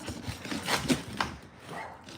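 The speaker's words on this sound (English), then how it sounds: "There's a dog barking at me." A dog barks a few times from some distance, short sharp yaps standing out against quiet background noise.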